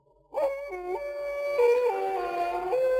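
Eerie wolf howl from a Spanish-language radio horror drama about lycanthropy, rising into long sustained wavering tones that shift pitch in steps, loud and clear with no talk over it.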